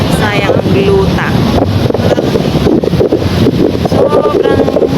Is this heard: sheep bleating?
no